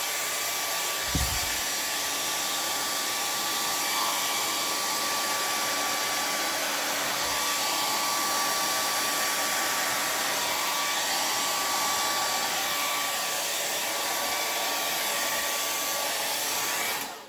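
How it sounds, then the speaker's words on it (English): A hair dryer running without its nozzle blows at a steady, loud whooshing hum throughout, with a brief thump near the start before it cuts off. "now hopefully I've lost the tip to my blow dryer"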